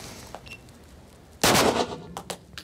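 A single loud gunshot rings out sharply at a shooting range, followed by a few faint metallic clicks and pings in an otherwise quiet space.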